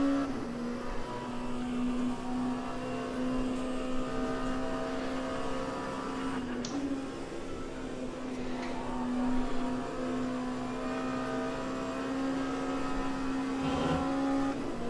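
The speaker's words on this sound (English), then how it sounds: "Ferrari's coming up on us." A Ferrari race car in the Le Mans Ultimate sim racing game drones steadily near, its engine tone holding a strong pitch with slight shifts as it closes in, loud and continuous with no talk.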